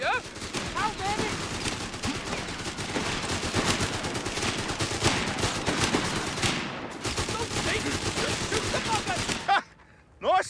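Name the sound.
gunfire in the Company of Heroes 3 video game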